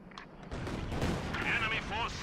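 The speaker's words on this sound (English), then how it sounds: "Another Katyusha barrage coming in." Rocket artillery barrage from a Katyusha launcher in the wartime strategy game Company of Heroes, a dense rumbling roar of incoming fire swelling after a brief lull and sustained to the end, with whistling rocket tones over the din.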